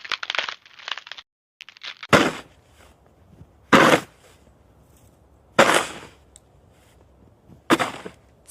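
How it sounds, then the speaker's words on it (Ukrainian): Snow being cleared with shovels outdoors on a winter walk: four loud, separate scraping strokes spaced about every two seconds, preceded by softer, scratchier crunching at the start. "це звук прибирання снігу лопатами."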